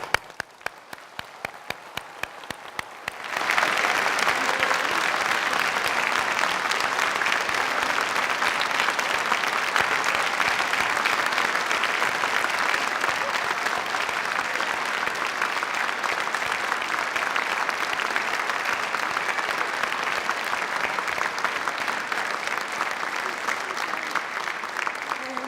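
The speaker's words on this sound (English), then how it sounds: "I would like to ask you to stand and receive more thunderous applause for" A convocation audience at St. John's Fall 2018 ceremony, standing for the graduates, breaks into thunderous applause after a few quiet seconds. The dense clapping then holds loud and steady for over twenty seconds.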